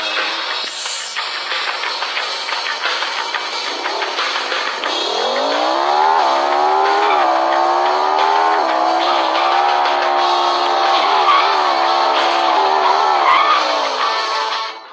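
A Lamborghini in the Extreme Car Driving mobile game accelerates, its engine rising in pitch and then holding a steady, loud drone with small gear-change dips, with no talk over it.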